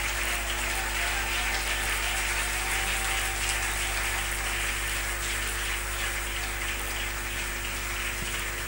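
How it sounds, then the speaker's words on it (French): A large church congregation at a prayer gathering applauds in praise, a dense, continuous rain-like clapping that stays steady throughout over a low hum. "nous allons applaudir le Seigneur pour le bénir"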